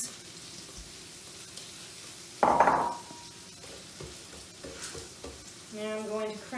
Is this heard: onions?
yes